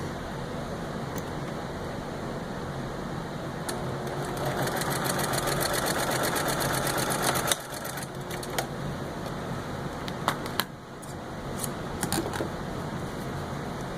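A sewing machine stitches a quarter-inch seam joining two edges of stocking binding, a steady whirring run of rapid stitching that pauses briefly around the middle, then resumes in shorter bursts, close and continuous.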